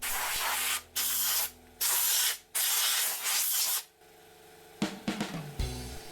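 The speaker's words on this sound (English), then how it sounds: "I take the opportunity to disturb a civilization of dust mites and fungal spores with a blast of compressed air" Several sharp hissing blasts of compressed air cleaning dusty heater parts from a 1971 Bedford CF1 camper van, in bursts with short gaps, then handling clatter of parts.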